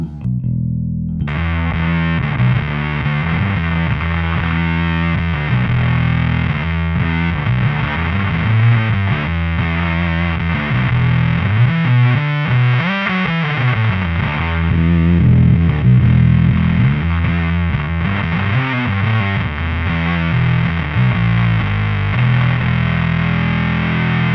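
An electric guitar through an op-amp-based muff fuzz pedal plays thick, saturated riffs, loud and continuous with a buzzy, compressed tone throughout, no talking.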